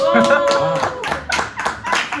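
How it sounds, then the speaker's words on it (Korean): A few people clap their hands in a small indoor setting, with quick rhythmic claps mixed in with lively chatter and voices that run throughout. "그 다음에 박수라도 한번 쳐주세요"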